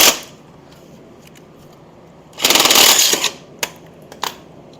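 A socket wrench ratchets briefly while removing exhaust bolts on a 1978 Kawasaki KL250 motorcycle, a short close burst of rapid clicking followed by a few isolated metallic ticks.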